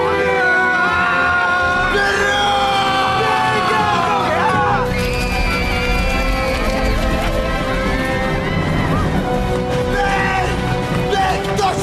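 Soldiers in a war movie shouting hurrah as they charge, a loud crowd of yelling voices rising in waves over dense rumbling battle noise and music, with a voice speaking over it.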